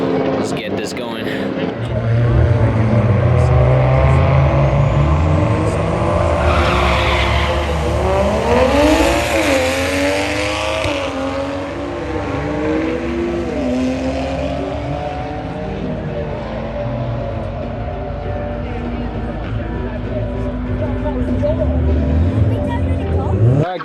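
An A90 Toyota Supra makes a drag racing pass, its engine roaring and revving loudly through rising gear pulls before fading, with tires and crowd noise around it.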